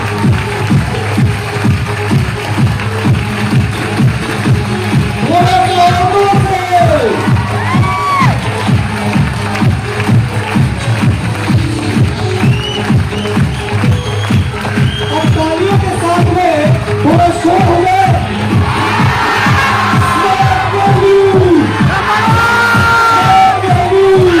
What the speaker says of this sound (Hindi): दोनों हाथों को ऊपर करके जोरदार म्यूजिक के साथ स्मार्ट वैल्यू के लिए जोरदार तालियां